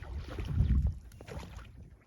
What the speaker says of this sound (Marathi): कशा प्रकारे होडी चालवतोय बघा पाणी कमी असताना पण